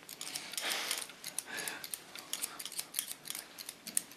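Scissors snip rapidly through hair while cutting a short pixie style, a quick run of crisp, close metallic clicks at an uneven rhythm, alone with no voices.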